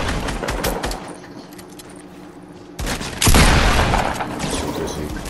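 In a squad-based video game match, loud rapid gunfire rattles in dense bursts. After a brief, quieter stretch of scattered shots, a heavier, sustained volley erupts close and loud.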